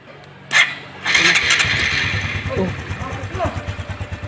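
An engine is cranked and briefly catches, settling into an uneven, pulsing run with no real revving, loud and close, as people talk nearby.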